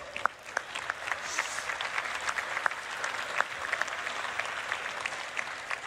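Applause from a fan convention audience at a Star Citizen event, a thin, steady patter of many hands clapping with a few distinct sharp claps, moderately distant, with no speech.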